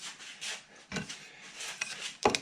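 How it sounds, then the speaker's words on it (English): Guitar frets on an OM neck are sanded with an 80-grit beam, giving soft, uneven rubbing strokes with a few sharper scrapes, close and fairly quiet. "That's not going to take us long because I got 80 grit on this beam."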